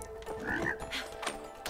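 Frog croaking in the co-op video game It Takes Two, a few short nasal croaks spaced irregularly, fairly close and clear against quiet game ambience.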